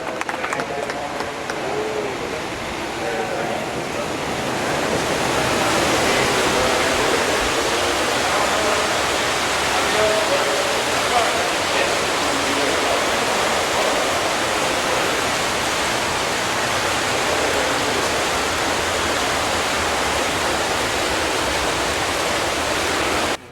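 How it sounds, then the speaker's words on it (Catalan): Irrigation water rushes through the Partidor de les Aigües channel divider at Banyeres de Mariola as a dense, steady roar of flowing water that builds slightly and then holds loud and unbroken. "L'aigua entra per la sèquia del rec que hem vist i ara veurem que a la part de baix es divideix en dos sèquies"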